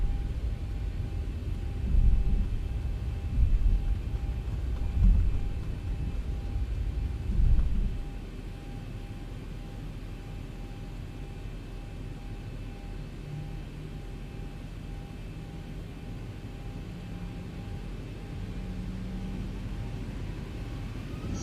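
Airliner engines in a flight simulator rumble low and steady on runway 09, with a few heavier surges early before settling into a sustained drone and a faint rising tone as thrust builds toward takeoff.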